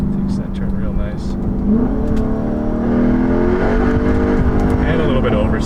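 A V8 muscle car engine hums steadily as the car drives through a turn, with a rising and settling mid-pitched drone throughout and a person talking over it.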